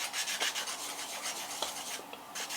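Steady scratchy rubbing on the plastic frame of a Tamiya Honda CB750F model kit, smoothing down moulding lines; repeated close rasping strokes with no talk.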